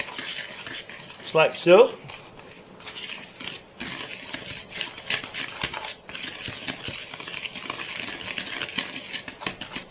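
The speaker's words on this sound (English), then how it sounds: "stir this all together and we'll mix her up" A spoon stirs apple bread batter and flour in a bowl, making soft, repeated scraping and clinking close by, with a brief spoken remark near the start.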